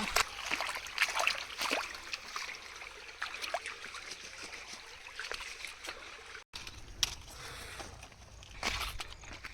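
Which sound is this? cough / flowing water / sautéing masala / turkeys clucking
flowing water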